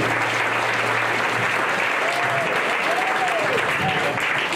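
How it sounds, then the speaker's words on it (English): A crowd claps steadily, the applause loud and sustained for a few seconds, with faint voices underneath. "Let's one more big round of applause."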